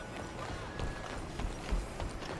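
Horse hooves clip-clopping in the video game Red Dead Redemption 2, a steady series of soft, moderately close thuds under a constant background bed, with a few brighter hoof strikes standing out.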